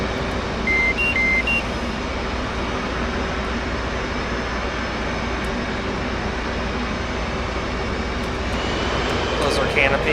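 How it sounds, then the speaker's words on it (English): Left jet engine of an F/A-18C starting in the DCS World flight game, a loud steady roaring whine filling the cockpit with cockpit beeps early on and a faint radio or voice over it. "Crank our left engine."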